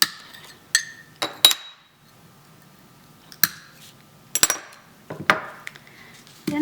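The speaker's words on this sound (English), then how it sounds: "Now I'm going to use my running pliers to break the score lines." Running pliers snap scored stained glass along score lines for a mosaic heart, giving several sharp, close cracks and glassy clinks spaced irregularly over quiet pauses.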